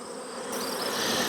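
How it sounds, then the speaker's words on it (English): Honeybees swarm back to their hive entrance, a dense, continuous buzzing of many insects close by that swells slightly louder over the brief stretch. "Look at them coming back here to their entrance."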